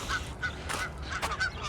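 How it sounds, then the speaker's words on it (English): Several geese honk by a misty lake in Regina, with repeated loud, nasal calls close by in quick succession. "Geese, ducks, and of course gulls over there too."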